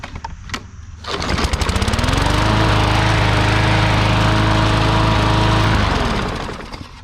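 A Briggs & Stratton lawn mower engine, just repaired after a no-start fault, fires up after a short pull and settles into a loud, steady close-up drone before cutting off.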